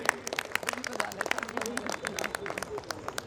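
An audience at a Jaipur traders' federation event claps in a quick, uneven patter for a woman seated in the front row, the clapping fairly close and steady, with voices murmuring underneath.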